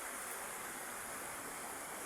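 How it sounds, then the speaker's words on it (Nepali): A river swollen after a full day of rain gives a steady, even rush of water. The sound is faint and continuous, with no other sounds over it. "खोला त पुरा बढेको छ आज चाहिँ।"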